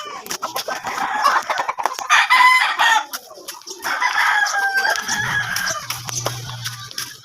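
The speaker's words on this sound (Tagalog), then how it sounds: "Manok ng kapitbahay." A neighbour's hens cluck busily and a rooster crows nearby, in loud, close bursts that continue over several seconds with a low hum underneath near the end.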